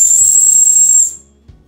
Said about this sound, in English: this is supposed to be a whistle.